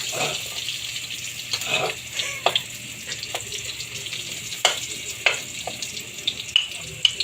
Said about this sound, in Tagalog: At ito po ang tilapia, piniprito na namin.